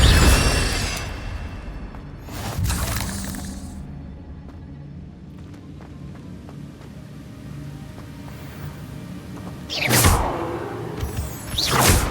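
Incendio fire spells cast in Hogwarts Legacy, each a loud whooshing flare that rises and fades, with one near the start and a stronger pair late on, separated by a quieter ambient stretch.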